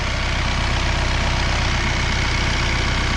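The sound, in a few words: tractor engine idling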